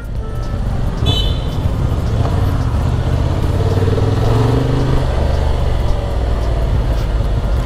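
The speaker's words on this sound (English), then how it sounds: "he's riding the bike, of course, in this crowded traffic over here" A 2023 Honda Transalp motorcycle rides through crowded traffic, its engine droning steadily beneath a busy roadway wash, with a brief high horn-like tone early on and no speech.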